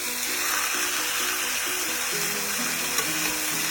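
Food sizzles steadily in a pan at close range, a continuous bright crackle with background music playing over it throughout, no voices.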